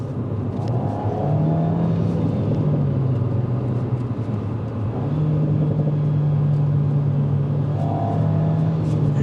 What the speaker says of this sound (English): when you do, you get little pops and bangs